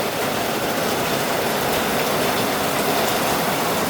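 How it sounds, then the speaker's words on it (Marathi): Steady, dense rain pouring down without pause in Kerala, a continuous broadband hiss with no voices or other sounds over it. "अजूनही पाऊस गेलेला नाही पाऊस हा सुरूच आहे"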